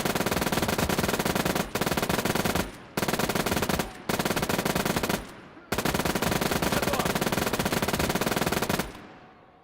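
An MG42 machine gun fires in the Gates of Hell war game, roaring in five long, dense automatic bursts separated by brief gaps, loud and close with a short decay after each burst.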